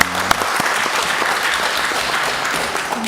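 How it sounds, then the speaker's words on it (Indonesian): Members of Indonesia's DPR Commission III break into steady applause at the close of a parliamentary session, a dense, continuous round of clapping from a roomful of people, filling the hall for several seconds. "Kita kasih tepuk tangan."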